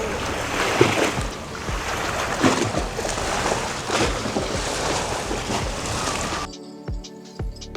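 Wind-driven waves slap and slosh against a country boat on the wide waters of Tanguar Haor wetland, a continuous rough wash with gusty wind that cuts off abruptly near the end.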